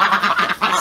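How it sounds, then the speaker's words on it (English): Pet ducks quack noisily and repeatedly in a backyard flock, loud, close, overlapping honking calls in quick succession with no talk. "let's see why my duckies aren't happy. They're quite noisy."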